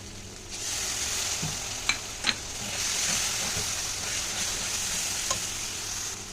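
Spices frying and being stirred in a pan while cooking mixed rajma, a steady close sizzle with a few sharp scrapes and clicks of the spoon, no talking.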